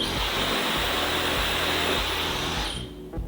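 A hair dryer blows hot air on short curly hair with a steady, loud whooshing hum, then cuts off abruptly near the end.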